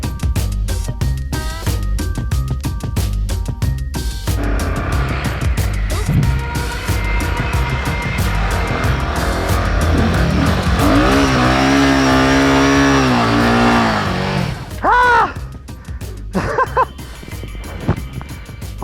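BMW GS adventure motorcycle engine revving hard off-road as the rider builds speed for a run, struggling for traction, a loud sustained roar with rising and falling pitch, sharp clattering bursts and a brief quieter stretch near the end.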